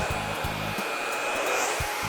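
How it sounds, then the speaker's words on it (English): A handheld blow dryer blasts air while drying freshly shampooed and conditioned hair, a loud continuous whoosh with low bumps and shifts as it is moved around the head. "I'm gonna pick all this up with the blow dryer"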